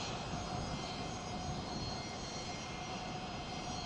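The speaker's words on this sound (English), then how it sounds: "Maybe it's just a civilian airplane that just landed." A civilian airplane just after landing produces a steady, loud engine roar, a broad continuous drone with a faint whine that holds level throughout.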